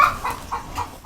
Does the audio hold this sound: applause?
no